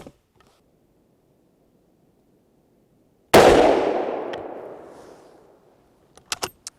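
A single loud 7.5x55 Swiss rifle shot fired with Hornady SST ammunition cracks out of near silence, followed by a long outdoor echo decaying over a few seconds, then faint mechanical clicks.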